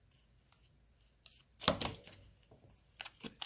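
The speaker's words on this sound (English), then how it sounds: "just for speed, I'm going to do it with my scissors today" Scissors trim paper in a few quiet, close snips, with one sharper cut standing out midway and light rustling between.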